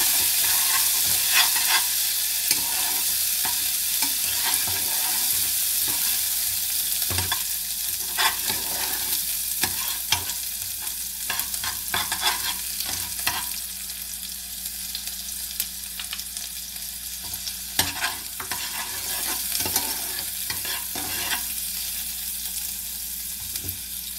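Food fries in a pan in a home kitchen, a loud, constant sizzle broken by scattered clatters and stirring knocks, with no talking.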